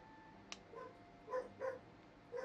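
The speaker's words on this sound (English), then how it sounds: "dang, they're all barky. And They really are going off tonight." Several dogs barking in short separate bursts, faint and quiet in the background, with one sharp yip followed by three or four softer barks spread across a couple of seconds.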